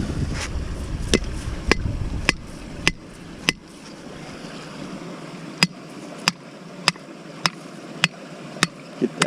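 A steel T-bar stake is hammered into a stream bed, with sharp metallic strikes at a steady rhythm, about fourteen in all, close and loud over faint flowing water.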